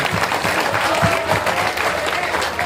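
Audience at an outdoor Ramlila performance with Ravan Dahan, clapping loudly and steadily in a dense burst of applause throughout.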